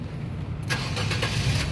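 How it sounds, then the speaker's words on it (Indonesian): A 2013 Nissan Grand Livina 1.5 XV automatic starts up: a quiet idle-like background, then a sudden cranking catch about halfway through as the engine fires and settles into a running hum, close by with no voices. "Sekarang kita coba nyalakan mobil ya."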